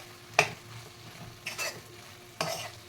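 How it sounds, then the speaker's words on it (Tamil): Pumpkin gravy with peanut powder cooks in a pan, giving a soft steady sizzle broken by three distinct scraping strokes of a spoon stirring against the pan. "இந்த வேர்க்கடலை பவுட்ரு போட்ட உடனே ஒரு 2 நிமிஷம் வதங்கினா போதும்"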